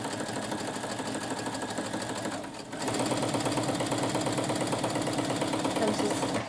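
A sewing machine stitches a skirt hem in fast, even mechanical pulses, pausing briefly before resuming at a slightly louder, steady pace, with someone speaking faintly over it.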